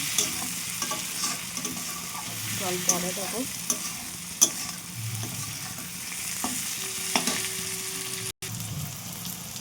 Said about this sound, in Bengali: এটাকে আবার ভালো করে নাড়াবো।